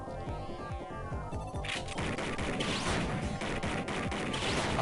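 Gunshots in the Snatcher video game: a dense burst of loud, rapid cracks that starts partway through and keeps going to the end, with no voices.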